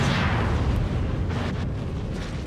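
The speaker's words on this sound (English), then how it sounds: "I don't understand how you're supposed to hit people with these missiles." Missiles explode in Star Wars: The Old Republic with a loud, deep rumbling blast that starts strong and slowly fades over a couple of seconds.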